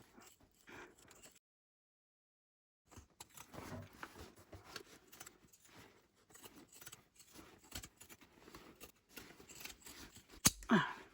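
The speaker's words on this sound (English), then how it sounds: "Use my pinking shears to go around these curves." Pinking shears snip through fabric around curves while sewing a shoulder bag, quiet close crunching cuts that come in short clusters with a pause of silence, ending in a sharper metallic clack.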